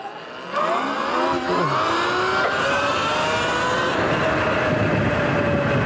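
A Sur Ron electric dirt bike in sport mode accelerates hard from a slow roll, its motor whine rising steadily in pitch over several seconds, loud and close with no talking.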